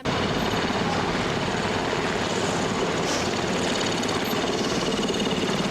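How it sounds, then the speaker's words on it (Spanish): The presidential helicopter arrives over Plaza de Mayo in Buenos Aires during the 2010 wake of Néstor Kirchner, a loud, steady rotor-and-engine roar that fills the whole stretch without pause. "El helicóptero presidencial rompió el silencio de muerte que reinaba sobre la Plaza de Mayo"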